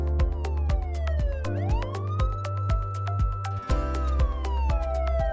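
Critical care ambulance in Kashmir running its siren: a loud, close wailing tone sweeping up and down, layered with a rapid repeating yelp pattern and steady pulsing beats, continuous throughout with no voices.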